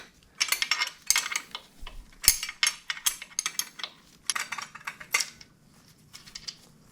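Metal wrench clicking and clinking on the engine bolts of a 2015 Aprilia Tuono RSV4 during an engine removal, close by, in quick bursts of short ratcheting clatter with brief pauses between them.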